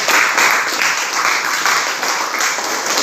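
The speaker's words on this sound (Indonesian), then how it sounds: "tepuk tangan untuk kita." A classroom of students claps together in steady, dense applause that carries loud and close for the full three seconds without a break.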